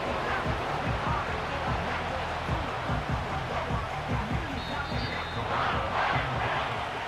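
Stadium crowd in the Madden NFL 25 football video game, a steady, dense roar of many voices filling the space continuously at a loud level, with occasional swells and faint whistles, and no single voice standing out.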